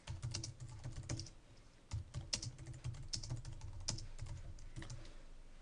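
Fingers type on a computer keyboard at close range in quick, irregular bursts of clicking keys, with brief pauses between runs.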